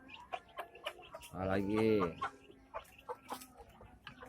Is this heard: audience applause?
no